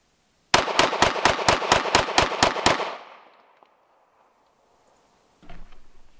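A Glock pistol fires a rapid string of about ten sharp, evenly spaced shots at close range. A ringing tail fades after the last shot, and a faint rustle follows later.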